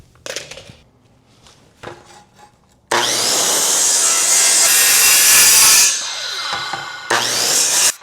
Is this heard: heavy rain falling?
no